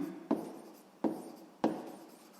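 A pen or chalk taps and scratches in three separate strokes about two-thirds of a second apart, each a sharp hit trailing into a fading scrape, faint and close with no talk.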